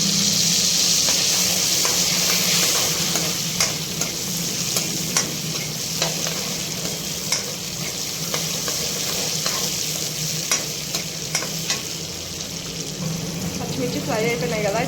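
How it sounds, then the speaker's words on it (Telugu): Green chillies, sesame seeds, coriander seeds, cumin and garlic fry in hot oil for bottle gourd chutney, a steady loud sizzle with scattered scraping stirs throughout and faint background noise. "పచ్చిమిర్చి ఫ్రై అవ్వగానే నువ్వులు కూడా వేసి అందులోనే ఫ్రై చేసుకోవాలి"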